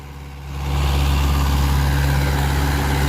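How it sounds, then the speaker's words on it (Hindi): Mahindra 575 XP Plus tractor engine running steadily and loudly close by, a deep low-pitched drone that builds over the first half second and then holds a constant rumble with no talk. "चढ़ाई पे किसी भी प्रकार की ट्रैक्टर आरपीएम ना ड्रॉप करे"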